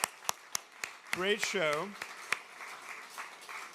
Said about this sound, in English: Big round of applause for all of our speakers.